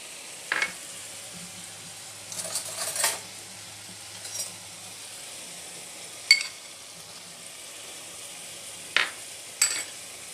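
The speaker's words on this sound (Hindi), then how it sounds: "मसाले को अच्छे से भून लूँगी।" Turmeric, red chilli powder and salt roast in a pan for baingan bharta, with a faint, low sizzle. A few sharp clinks and scrapes of a spoon on the pan stand out at intervals.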